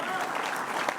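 An audience at a political campaign rally applauds, a brief, steady burst of crowd clapping heard at moderate distance.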